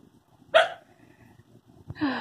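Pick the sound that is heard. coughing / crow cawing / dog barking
dog barking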